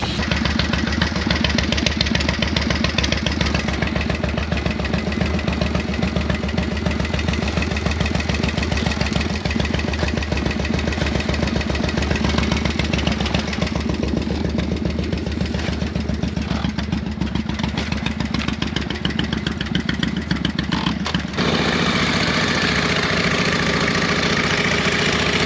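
Kick-started chopper motorcycle engine idling loudly and close with a steady, lumpy thumping rumble for the whole stretch, changing slightly in tone near the end.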